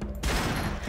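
A short burst of rifle fire in Halo CE, firing piercing rounds, starting abruptly after a brief quiet moment and continuing as loud, dense, crackling shots.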